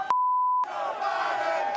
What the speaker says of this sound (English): I can hear the chants from the crowd